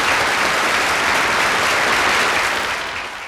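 Dense, loud applause from an audience at an eisteddfod music competition prize announcement, a steady wash of many hands clapping that begins to fade near the end.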